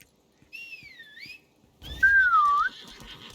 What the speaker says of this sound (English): Suppose I shouldn't whistle on my headset opening.